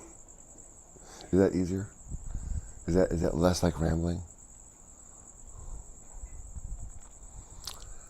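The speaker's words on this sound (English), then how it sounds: "these crickets. They're super loud." Loud crickets chirp in a steady high-pitched trill in Las Vegas, running through the whole scene while people talk over it.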